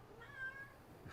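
A pet cat, sleepy in its cradle, gives a single faint, drawn-out meow in a quiet room.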